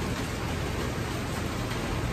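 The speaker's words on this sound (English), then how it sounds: "it's raining cats and dogs out there" Heavy rain pours steadily in Guwahati, India, a dense, even wash of noise across the whole stretch with no breaks and no voices.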